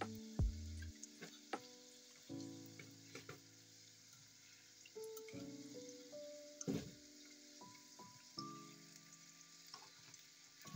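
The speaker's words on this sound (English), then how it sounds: "Really don't take a long frying time." Thin rolled dough frying in oil until crispy in a Dutch pot, with steady bubbling sizzle, scattered pops and occasional stirring clinks, close and moderate in level.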